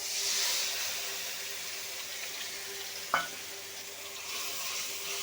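Spice paste of turmeric, cumin, coriander and chilli powders mixed with water sizzles in oil in a pan, a steady hiss with a brief scrape of stirring partway through.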